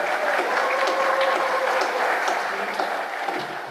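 An audience at a Rotary Club meeting claps steadily for a few seconds, a dense, moderately loud patter of hands in a room that fades slightly toward the end.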